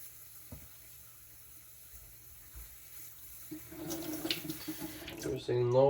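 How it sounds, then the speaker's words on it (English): Water from a tap runs over a knife blade to rinse away sharpening slurry during restoration of a badly abused knife, starting quietly and building into a louder splashing stream near the end. "I'll wash off the slurry so it don't bump into the apex."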